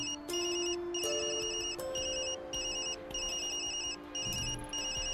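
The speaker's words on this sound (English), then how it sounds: "That's my phone." A phone ringtone in the Tokyo Dark video game rings in a repeating electronic pattern of bright pulses, steady and clear with no talk over it.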